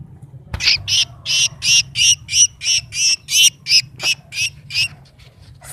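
A sparrow, caught in a trap, gives a rapid series of about fourteen harsh, evenly spaced chirps, loud and close, over a low background hum.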